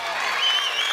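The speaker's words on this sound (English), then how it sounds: "The crowd go mental." Crowd at a world championship squash match bursting into loud applause and cheering after a long, brutal game, a dense, close roar of clapping with excited shouts mixed in.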